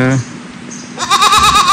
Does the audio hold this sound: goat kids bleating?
yes